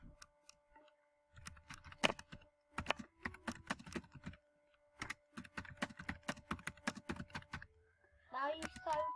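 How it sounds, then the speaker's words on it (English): Rapid bursts of keyboard typing clatter up close in uneven flurries with short pauses, and a voice speaks briefly near the end. "Now you're so good at typing, so fast. I can hear it as well."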